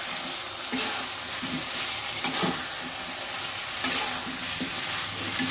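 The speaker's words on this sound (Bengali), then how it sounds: "এবার দিয়ে দেব আলুগুলো। আলুগুলো দিয়ে দিচ্ছি।" Small new winter potatoes are added to hot oil with softened tomato for a Bengali alur dom and sizzle steadily up close, with a few scraping stirs cutting through the frying.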